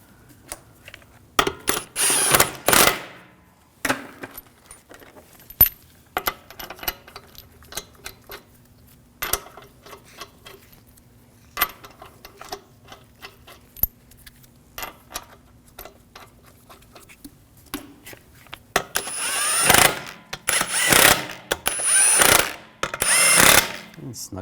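Lug bolts on a 2001-2009 Volvo S60 rear wheel are threaded in and run down, giving scattered clicks and metallic taps, then louder bursts of tool rattle near the end; a voice is heard briefly.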